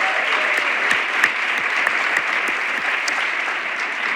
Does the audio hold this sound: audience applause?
yes